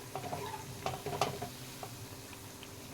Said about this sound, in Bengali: এইভাবে লাল লাল করে ভালো করে ভেজে নিতে হবে।